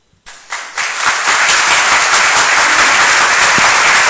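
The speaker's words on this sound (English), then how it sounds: "That's like an audience clap, like an auditorium clap." A canned applause sound effect, triggered by a button on a sports radio show, starts abruptly after near silence, swells in a few quick steps and then holds as loud, dense auditorium-style clapping and cheering.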